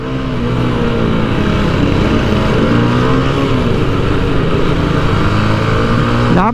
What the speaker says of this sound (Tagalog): tingnan nyo papakita ko sa inyo kung gaano kalakas yung motor